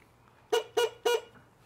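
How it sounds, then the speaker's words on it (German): The horn of an IO Hawk Legacy 2.0 electric scooter sounds three short, evenly spaced beeps close up, loud against a quiet background. "Die Hupe."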